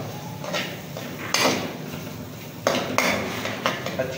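Spoon working through lemon chutney with honey in a pot, giving repeated metallic scrapes and knocks against the pan at an uneven rhythm, close and fairly loud.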